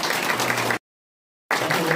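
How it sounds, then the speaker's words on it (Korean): An audience applauding at the end of a lecture, with dense clapping from many hands that cuts out abruptly for a moment and then resumes at the same level. "다시 한번 박수 보내주시기 바랍니다"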